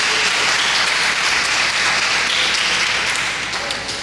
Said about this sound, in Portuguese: Você pode dar um aplauso ao nome do Senhor Jesus.